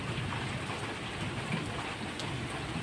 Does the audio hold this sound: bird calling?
no